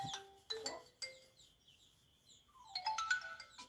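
A phone ringtone plays a bright electronic melody in short bursts, with two quick phrases near the start, a longer pause, then a busier run of chiming notes at the end.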